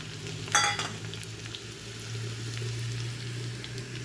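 Crushed garlic cloves frying in hot oil for a Kannada-style jackfruit curry, a steady low sizzle with a brief brighter crackle burst near the start, close and alone with no talk.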